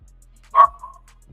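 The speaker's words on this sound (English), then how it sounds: "Yeah, I know the dog barking." A small schnauzer gives one sharp, close yap that trails into a short whine, followed by faint room noise.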